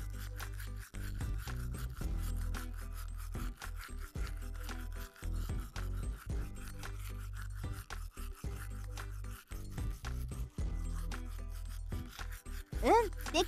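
A child's toothbrush scrubs teeth in a steady back-and-forth rubbing rhythm, close and continuous with brief pauses, and a voice is briefly heard near the end.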